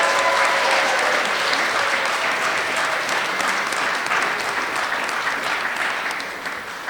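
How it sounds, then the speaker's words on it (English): Applause at a humanities lecture, loud and close, with a full audience clapping steadily before it gradually thins and fades near the end. "let's give them a round of applause."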